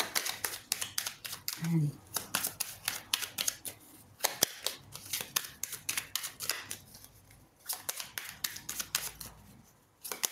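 Tarot cards being drawn and handled, with rapid crisp flicks and snaps of card stock in quick bursts, while a voice speaks briefly.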